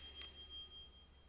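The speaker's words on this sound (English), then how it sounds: "As soon as the bell rings" A wrestling match bell gives a single sharp ding that rings on with a thin, sustained metallic tone, heard alone against a quiet background.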